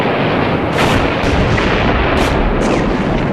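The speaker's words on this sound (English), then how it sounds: "Splendid gunnery by the Navy." Naval artillery bombardment in archival war footage of a beach landing by cliffs, a loud continuous roar of distant booms rumbling together, with sharper blasts rising out of the din.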